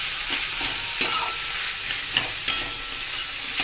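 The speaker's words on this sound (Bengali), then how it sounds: "বেথো শাক আলু দিয়ে ভাজা করছি" Bathua greens and potatoes frying in a pan at home, a loud continuous sizzle close by with sharp ladle scrapes and taps landing roughly every second and a half.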